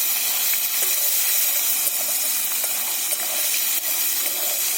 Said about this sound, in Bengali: আমি কড়াতে টমেটোটা দিয়ে দিলাম।